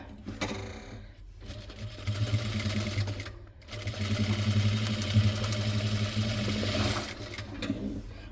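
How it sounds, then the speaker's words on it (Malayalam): A sewing machine stitches the corner of a trendy Japanese-style fabric bag, running in steady motor bursts with a brief pause near the start and another midway, close and alone. "എന്നിട്ട് സ്റ്റിച്ച് ചെയ്തെടുക്കുക."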